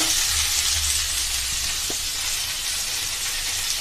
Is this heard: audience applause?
no